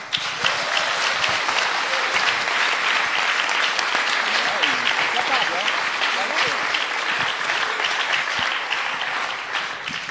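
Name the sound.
audience applause welcoming two authors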